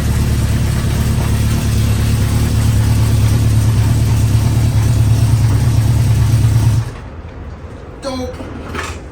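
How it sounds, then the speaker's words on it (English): A 1973 Harley Sportster motorcycle engine idles close by with a steady, even low thrum for about seven seconds, then cuts off, leaving quiet with a brief voice afterward. "She's idling a lot better since I put the seafoam in there."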